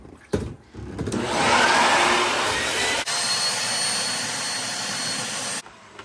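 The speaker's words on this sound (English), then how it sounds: "So I will open the door and vacuum it." Small shop vacuum sucking water out of a Kenmore dishwasher that won't drain, a loud rising whoosh and roar with gurgling sucking, then a steadier hum before cutting off, preceded by a brief clunk.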